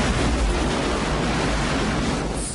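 Giant ocean wave set off by an asteroid striking the sea, in a film scene of New York being swallowed: a loud, unbroken roar of surging water and wind rumble fills the whole stretch.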